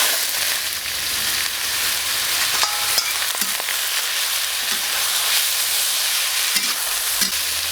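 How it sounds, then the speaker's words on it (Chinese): Shredded potatoes stir-fried in hot oil in a wok, a continuous close sizzle and hiss with scattered scraping and clacking of the spatula against the metal, with no talking. "锅里加油，开始炒土豆丝"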